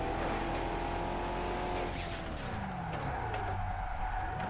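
A classic Formula One racing car engine in TOCA Race Driver 3 drones steadily with shifting pitch, the tone dropping as it slows, with a faint tire squeal; continuous and close, no talking.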